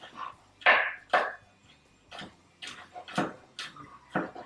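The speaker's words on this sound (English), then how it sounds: "So I'm just chopping off some of the garlic here." A knife chops garlic on a cutting board in sharp, irregular knocks, some louder than others, close by with no talking.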